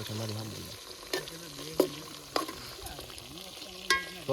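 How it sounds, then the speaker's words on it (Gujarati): Green chillies frying in hot oil with a spoon stirring, a soft steady sizzle broken by a few sharp scraping clacks against the pan, close by and fairly quiet, with a low voice murmuring under it. "મિત્રો અમે અત્યારે મરચાં તળી રહ્યા છીએ"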